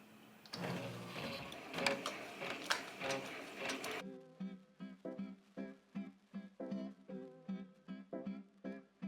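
A Ricoma Marquee 2001-10S embroidery machine stitches an HTV applique on a baby romper with a fast, rhythmic mechanical chatter, close and prominent, and its tone shifts partway through.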